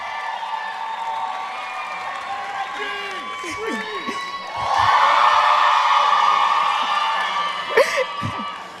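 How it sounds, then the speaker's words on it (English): An audience at an outdoor youth empowerment event's main stage cheers and whoops, with the crowd noise swelling midway under an amplified voice on the PA. "Once more, a round of applause"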